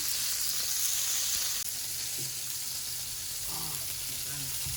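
Smash burger patties sizzle and crackle in a hot pan at home, a loud, continuous hiss up close, with faint voices talking over it.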